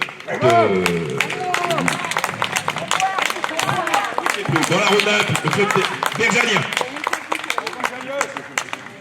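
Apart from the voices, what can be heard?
audience applause at award ceremony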